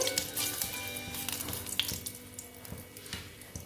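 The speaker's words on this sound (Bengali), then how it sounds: "ফোড়নটা ভালো মতন হতে দিচ্ছি" Whole spices for phoron temper in hot oil for a vegetarian banana-flower mocha ghonto, giving a faint, continuous crackling sizzle with small pops and a few soft knocks.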